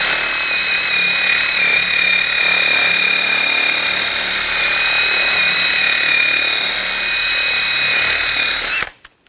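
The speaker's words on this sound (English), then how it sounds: "Take a wire brush," A wire brush, apparently power-driven, scours the wheel hub surface of a 2007-2013 BMW X5 during a parking brake shoe job, a loud steady whirring grind with high whine that runs unbroken for about nine seconds before cutting off.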